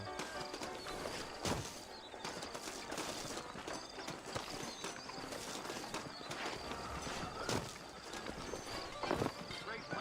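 Horse hooves clip-clopping in a Western video game, a steady walking rhythm of hoofbeats under continuous background music and game sound, with brief louder knocks.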